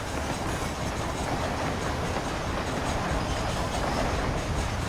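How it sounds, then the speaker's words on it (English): A train rolls steadily along its rails in a cowboy zombie video game headed for Mexico, with a continuous loud rumble and faint clatter and no voices over it. "This train headed for Mexico?"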